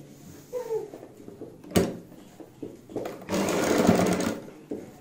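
A sewing machine stitches the boat neck of a kurti, with a sharp knock near the start and a loud continuous run of stitching in the second half between quieter handling sounds.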